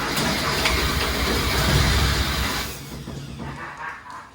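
A turbocharged Porsche rat rod engine running on a new carburetor with no choke, a loud rough rumbling close by that fades and settles toward the end.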